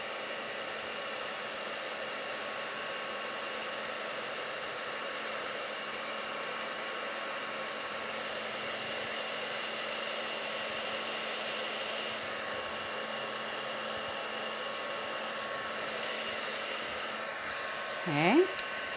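A heat tool blows hot air steadily over a craft piece, a constant close broadband whoosh with a faint motor hum that runs unbroken for the whole stretch, ending in a brief rising squeak.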